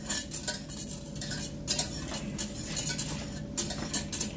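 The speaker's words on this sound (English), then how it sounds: "just whisking the butter as it melts in here" Butter is whisked into a sauce in a pan, making quick, rhythmic metallic clicks and scrapes of a whisk against the metal, close and fairly loud, over a faint simmer. There is no talking.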